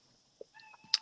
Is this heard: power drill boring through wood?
no